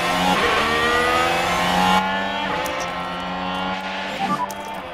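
F1 cars in the F1 Manager game roar away at the start of the Emilia-Romagna Grand Prix, a loud sustained engine drone with rising revs and several layered cars accelerating together.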